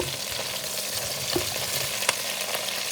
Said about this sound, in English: And the aroma of the sauteing of the garlic